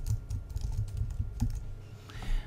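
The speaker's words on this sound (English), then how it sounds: "we can go ahead and type in our title" Quick bursts of keystrokes on a computer keyboard as a title is typed, soft and close, a run of clicks with a short pause near the end.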